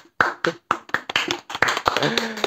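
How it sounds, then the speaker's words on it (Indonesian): A small group in a podcast studio claps in quick, sharp, uneven bursts, close and fairly loud, with a voice talking over the end. "Tepuk tangan buat Mas Evi."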